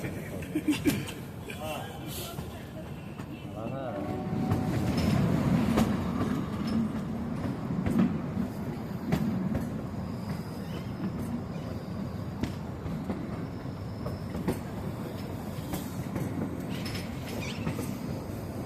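Kalka Shimla toy train rolling along its rails, a steady rumbling clatter of wheels with occasional squeals, heard from aboard under a person speaking throughout.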